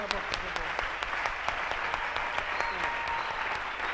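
A church congregation applauds and claps together in a steady, dense burst of clapping that fills the space, with scattered voices mixed into the applause.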